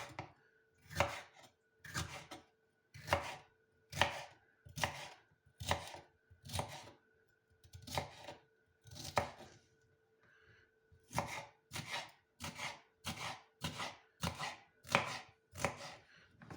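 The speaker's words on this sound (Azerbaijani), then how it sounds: "başlayırıq deməli bibarımızı doğramağa" A knife chops peppers steadily on a cutting board, sharp regular thuds repeating about once a second, with a short pause midway before the chopping resumes.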